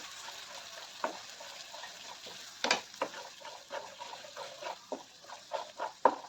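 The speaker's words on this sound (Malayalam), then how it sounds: "ഇനി നല്ലപോലെ ഇരുന്ന് എണ്ണ തെളിയുന്നത് വരെ നമ്മൾ വഴറ്റി കൊടുക്കണം" An onion and garlic chutney mixture with a little added water sautéing in oil, a quiet sizzle broken by frequent sharp scrapes and taps of a spoon stirring in the pan.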